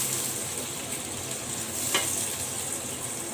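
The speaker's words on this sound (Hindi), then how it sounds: "तो हम गोल्डन होने तक इसको हम फ्राई करेंगे।" Onions fry in a pan as they turn golden: a loud, even, hissing sizzle that runs steadily throughout, with a single brief stirring clatter near the middle.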